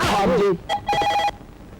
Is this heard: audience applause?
no